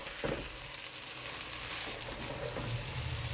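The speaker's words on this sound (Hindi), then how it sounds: "अब ये फटाफट से इसको थोड़ी देर भूनते हैं और दम पे लगाते हैं" Boiled mash dal frying in a hot pan, a steady close sizzle running throughout with faint stirring scrapes.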